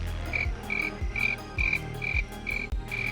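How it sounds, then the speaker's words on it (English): Crickets chirp at night in the Roblox game Flood Escape 2, a steady run of short, bright chirps about every half second over a low, soft thumping background. "Oh, it's just the crickets."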